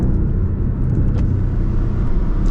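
Porsche 718 Cayman PDK with a free-flow exhaust, a brief, deep, steady exhaust rumble heard close and loud with no voices.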